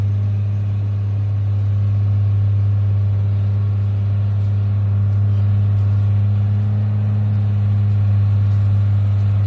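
A first-generation dual-rear-wheel two-wheel-drive pickup drives through snowy mud, its engine a steady, loud low rumble that holds close and even throughout without pauses.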